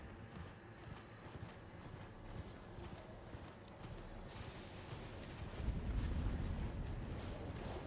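A horse gallops in the video game Elden Ring, a continuous rapid clatter of hooves mixed with game ambience that grows heavier and louder toward the end, with no voices.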